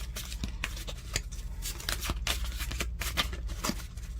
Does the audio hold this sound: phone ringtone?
no